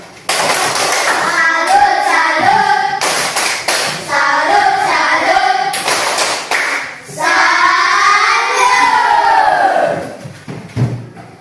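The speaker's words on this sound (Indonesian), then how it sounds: "Oke, tepuk salut untuk kita semua." A school class shouts a rhythmic 'tepuk salut' clapping chant during a coding and AI lesson. Loud unison voices alternate with sharp group claps in repeated phrases that end in a long drawn-out shout.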